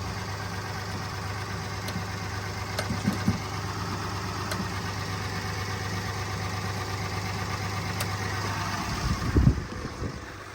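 A first-generation Dodge truck idles after a cold start in freezing, snowy weather, giving a steady, low engine rumble that holds evenly for about ten seconds before a brief louder knock near the end.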